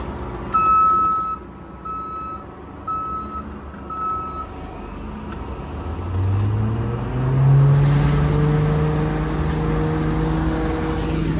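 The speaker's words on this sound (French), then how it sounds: "Donc Cédric avance un petit peu avec le tracteur" A tractor in a vineyard at grape harvest: a loud reversing alarm beeps steadily at first, then fades as the engine's low rumble swells and rises as the machine moves off nearby.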